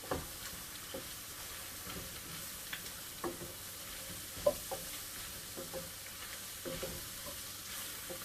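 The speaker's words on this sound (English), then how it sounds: "I'm going to sprinkle that over and stir it around" Flour stirred into browning jambalaya in a pan, a soft low sizzle with scattered light scrapes and taps of the spoon, close but quiet and without voices.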